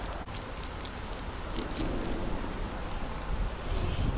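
Continuous broadband wind rumble and buffeting outdoors, steady and fairly loud, with no talking.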